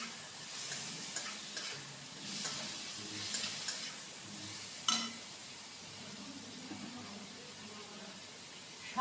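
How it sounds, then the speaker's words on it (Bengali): Chopped tomatoes fry in a pan for a fish and eggplant kasundi, giving a soft, steady sizzle with light stirring scrapes and a sharper clatter near the middle, all fairly quiet. "এইবার এতে টমেটো কুচানোগুলো দিয়ে দিচ্ছি"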